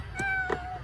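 A pet cat in the Sims 4 video game gives one short, clear meow over soft in-game background sound.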